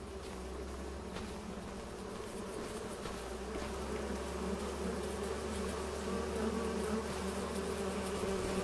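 Bees humming around hives in the farming game Farming Simulator 25, a steady, soft, continuous buzz of many insects at moderate distance, with no talking.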